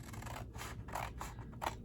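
Scissors cutting card stock along a score line for a Stampin' Up! A Walk in the Forest gift box: a few short, crisp snips with a papery rasp, close and fairly quiet over a low steady background hum.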